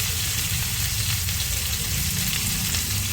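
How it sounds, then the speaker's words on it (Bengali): Banana flower frying in a pan with chili paste gives a loud, dense, continuous sizzle that stays even throughout, with faint stirring mixed in. "দিয়ে একটু নাড়াচাড়া দিয়ে দিই এবার দিয়ে দিচ্ছি লঙ্কা বাটা"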